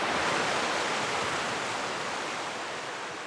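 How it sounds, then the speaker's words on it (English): Ocean waves crash on a beach in a sunny cove where a creek meets the sea, making a steady, dense wash of surf noise that holds evenly throughout with no distinct individual breakers. "The mist rises off the waves into the light as they crash."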